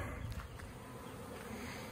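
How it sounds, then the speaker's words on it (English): A low, steady drone of buzzing bees fills the air, faint and continuous, with a few wing whines passing close by. "those bees got after me a little bit"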